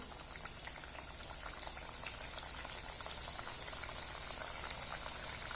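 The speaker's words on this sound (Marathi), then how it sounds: "आपण हे तयार करून घेतलेलं आहे ना ते आपण आता तळून घेणार आहोत आणि मध्यम गॅसवरती लालसर होईपर्यंत आपण याला तळून घेणार आहोत" A prepared snack of wheat flour and potato dough fries in hot oil on medium heat, giving a quiet, even bubbling sizzle with tiny crackles that runs steadily throughout.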